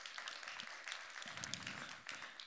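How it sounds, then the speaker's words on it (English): Scattered audience applause at a summit talk, fairly faint and brief, with uneven claps rising and thinning over a couple of seconds. "I got a clap for that"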